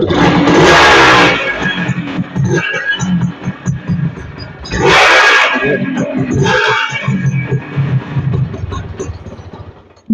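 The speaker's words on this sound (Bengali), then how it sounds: "গাড়ির সাউন্ডটা কিন্তু অনেক সুন্দর আপনাকে একটু শোনান" A second-hand Honda motorcycle engine runs continuously with a rough, rattling mechanical drone, revved up in two loud bursts amid the steady running noise.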